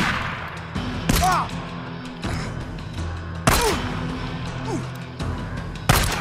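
Heavy weapon gunfire in the Days Gone video game, several loud separate blasts spaced a second or two apart over a low game background.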